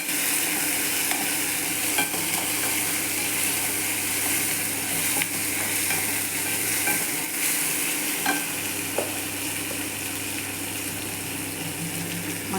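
Capsicum gravy cooking in a pan, a steady close sizzle with occasional stirring scrapes running throughout, no voices.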